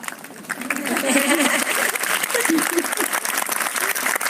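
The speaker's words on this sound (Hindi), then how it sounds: "तालियां बजाओ।" Applause from an audience of schoolchildren in a Hindi class, dense clapping sustained for about four seconds at steady loudness, with voices mixed in.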